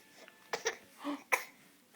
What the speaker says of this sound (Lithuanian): Kas čia kosėja?